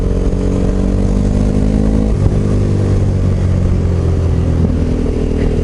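A KTM 950 SM motorcycle engine drones loud and steady while riding, a rich low rumble with slight rev shifts and clatter, close and continuous with no voices.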